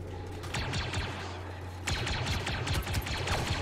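Gunfire in Star Wars Battlefront 2: rapid, dense bursts of blaster-like shots crackling over a low steady hum, continuous and close, with a short lull before the barrage picks up again.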